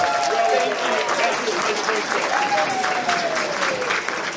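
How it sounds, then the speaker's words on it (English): Loud, steady applause fills a convention hall after an improv comedy scene at a furry convention, with cheering voices rising above the dense clapping throughout. "give them both a round of applause"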